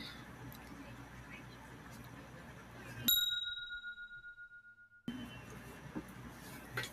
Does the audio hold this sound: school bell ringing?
yes